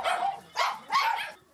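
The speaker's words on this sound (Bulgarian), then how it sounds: "Ама тук има още кучета." Small pinscher dogs bark in quick bursts, three loud high-pitched yaps close by with no talk over them.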